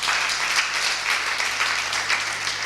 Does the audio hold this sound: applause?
yes